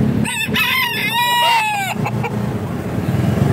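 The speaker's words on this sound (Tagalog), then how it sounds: "may dala pa siyang manok na bantam" A bantam rooster crows loudly up close, a strained cock-a-doodle-doo, followed by some clucking and rustling.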